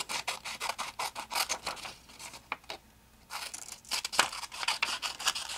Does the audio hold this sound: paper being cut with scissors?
yes